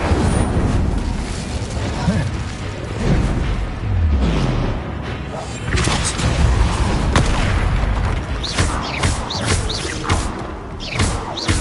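The Incendio fire spell is cast in the video game Hogwarts Legacy. Loud booming blasts and thuds hit repeatedly in a dense, chaotic combat mix, with a player's voice shouting over the game sounds.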